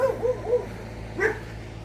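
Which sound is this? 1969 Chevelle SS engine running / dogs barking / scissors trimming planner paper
dogs barking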